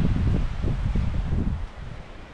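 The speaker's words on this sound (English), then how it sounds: "That's a pretty solid full valley wind heading that way" A strong wind blows down a valley, buffeting the microphone with a continuous low roar and rustle that eases slightly toward the end.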